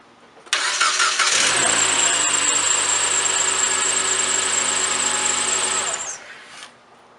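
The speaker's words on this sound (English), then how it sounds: "I can go ahead and start the car up." A Mitsubishi Lancer's engine cranks and catches with a sudden loud start, then idles in a steady, fairly close, even drone for about five seconds before cutting off, with no talk over it.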